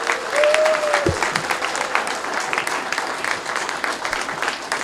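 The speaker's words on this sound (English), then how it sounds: "And now let us have a closing large hand of applause for Governor Johnson, Dr. Feldman, Mr. Perry," A crowd at a Libertarian Party state convention in Florida gives a sustained round of applause, dense and fairly loud, with a brief tone fading out early.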